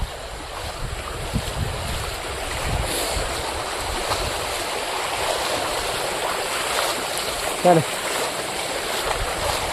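Floodwater rushing through a village street in Kutch during heavy rain, a continuous roaring wash with wind buffeting the microphone, and someone speaking briefly over it.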